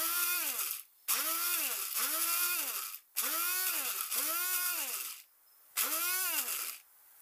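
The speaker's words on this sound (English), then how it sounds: "Blitz these up in a spice grinder, blender or similar." A spice grinder whirs in short bursts, about six pulses with brief pauses between them, while blitzing anchovy, lemon and olive oil into a green paste; each burst rises and falls in pitch as the motor spins up and slows.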